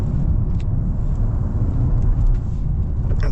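A 2025 Genesis G80 Electrified, a big and heavy electric sedan, accelerates at full throttle. It makes a loud, steady rumble of road and tyre noise with a faint motor whine, continuous for several seconds from inside the cabin.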